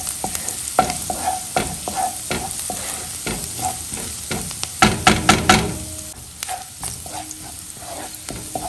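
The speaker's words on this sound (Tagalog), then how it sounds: "Igigisa ko na ang bawang na paganda." Garlic sautés in a hot pan with a soft, steady sizzle, broken by the scrape and clatter of a spatula stirring at close range, with no talking.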